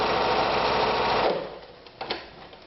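A Privileg Super Nutzstich 314 sewing machine running, giving a loud, steady close-up mechanical whir that slows and stops halfway, followed by a few light clicks.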